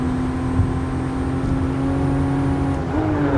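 A car engine in Gran Turismo Sport, played in VR on Tokyo streets at night, holds a steady high drone as the revs climb, with a brief shift in pitch near the end.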